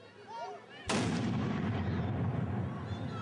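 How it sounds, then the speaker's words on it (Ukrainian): A single loud Cossack cannon blast booms out suddenly to open a competition, followed by a long rolling echo that slowly fades; faint voices precede it. "Вистріл із козацької гармати розпочав змагання."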